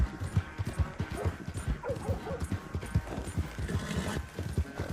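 Horse hooves clip-clopping in the western video game Red Dead Redemption 2, a quick, regular gallop of hoofbeats that is moderately loud and continuous, with no other sound prominent.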